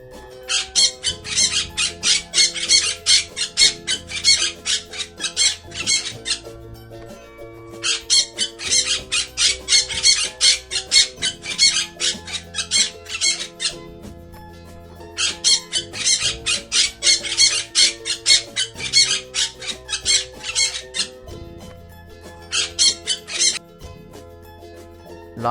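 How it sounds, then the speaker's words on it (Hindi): Harsh, raspy parrot squawks come in three long repeated bursts, each a rapid chatter of shrill calls separated by short pauses, loud and close against a low background tone. "पैरट माने तोता।"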